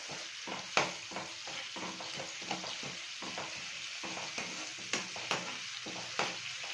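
Ginger garlic paste frying in a pan for a raw banana fry, a quiet steady sizzle punctuated by a rapid, uneven series of spatula clicks and scrapes.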